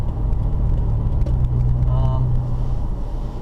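A steady, low engine drone from inside a moving 2013 Toyota FJ Cruiser, with a deep constant hum and faint voices underneath.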